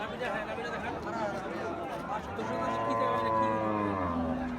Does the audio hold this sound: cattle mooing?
yes